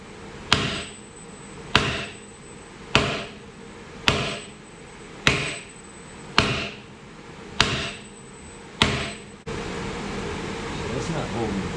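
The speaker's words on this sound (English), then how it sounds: "we're gonna see if we can put some pressure on it and then maybe beat it with a hammer" Stuck pin on a Kubota excavator six-way blade struck hard with a hammer, eight loud ringing metal blows at a steady pace of about one per second, followed by a steady mechanical hum.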